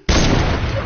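A single loud, close gunshot in a video game, with a hard instant attack and a booming tail that stays heavy for nearly a second.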